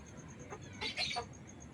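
A labuyo, a wild junglefowl, gives a few short soft clucks at moderate distance, brief and faint against a steady background hum.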